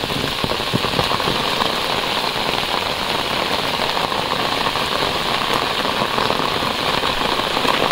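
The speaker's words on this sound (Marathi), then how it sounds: "बघा जोरदार पाऊस अजून पण लागणार आहे." Heavy rain pours down steadily on a Konkan village at the start of the monsoon, a loud, dense, continuous hiss of drops drumming on surfaces with no voices.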